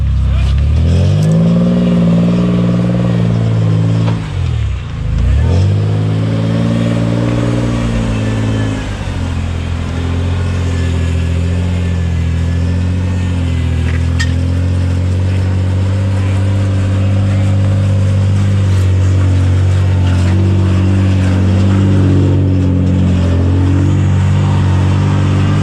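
A rock crawler buggy engine roars loud and near on rough hill terrain in pouring rain, revving up and down with a deep plunge and recovery early on, then holding a steady heavy drone.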